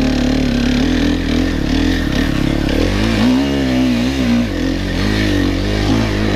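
An enduro dirt bike labors up a hill, its engine loud and close, revving hard with a rising and falling pitch as the rider works the throttle through the climb.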